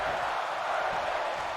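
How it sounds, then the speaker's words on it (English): Arena crowd noise in a WWE 2K wrestling game, a steady wash of cheering at moderate volume across the whole moment with no distinct peaks. "this crowd is just loving it"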